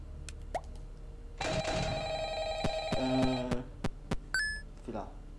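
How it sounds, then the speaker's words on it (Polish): Telephone ringing inside the horror game FNAF: Ultimate Custom Night, a harmonic ring tone repeating over about three seconds amid other game beeps and clicks, with someone talking around it. "Gdzie ten telefon dzwoni?"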